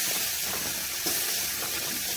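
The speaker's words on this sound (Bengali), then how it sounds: "মশলাগুলো দিয়ে ভালোভাবে কষিয়ে নিব।" Spices sautéing in hot oil in a kadai give a steady, loud broadband hiss and sizzle that fills the whole stretch without pause, with no voices.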